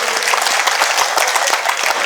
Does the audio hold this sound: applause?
yes